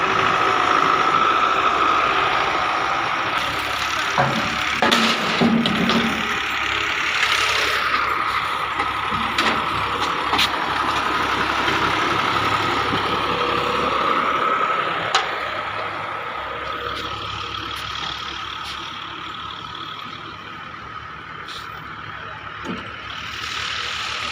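A heavy Ford tractor diesel engine runs steadily at close range for a long stretch, rumbling and droning with occasional clanks and hisses.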